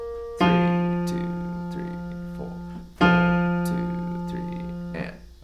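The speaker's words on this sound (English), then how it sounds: "So bass melody, root melody sounds like this." Bass root melody of a song, two sustained low notes, each with a sharp attack that slowly decays, played alone at moderate volume.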